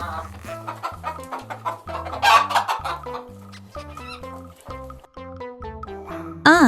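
A hen clucks repeatedly in short choppy bursts, set against a rhythmic musical backing with low bass notes.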